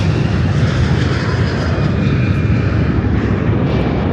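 A small airplane on the ground at a fly-in event, returning from Oshkosh, runs its engine before departure, a loud, steady, close roar that fills the whole stretch without pause.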